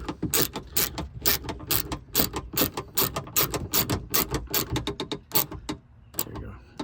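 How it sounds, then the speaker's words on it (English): Torque screw on the plastic exterior door handle of a 2008-2012 Ford Escape being tightened by hand, giving a steady run of close, sharp ratcheting clicks that slows and thins toward the end. "Tightening the torque screw, which is way inside there."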